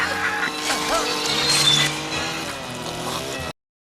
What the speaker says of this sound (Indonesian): Jason membelah perutnya menggunakan mesin pemotong rumput yang didapatnya entah dari mana.